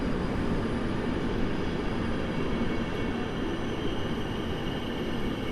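An EP09 electric locomotive hauls the international Intercity Chopin train through a night station at Warszawa Zachodnia, a loud, steady rumble of rolling wagons that holds constant for the whole stretch.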